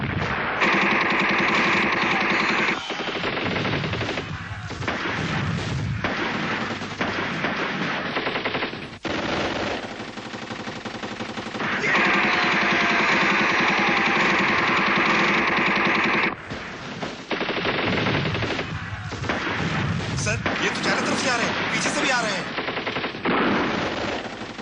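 Machine guns fire in sustained, rapid bursts throughout a war-film battle scene, loud and close, with short pauses between volleys, a rumbling engine-like background and occasional shouted voices under the gunfire.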